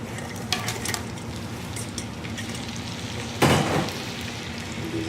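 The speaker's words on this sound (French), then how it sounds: "Alors, on va mettre des oignons." Onions frying in a pan at a restaurant called vigne et vache in Handschuheim, a steady close sizzle with a few scraping stirs and one louder burst of hissing near the end.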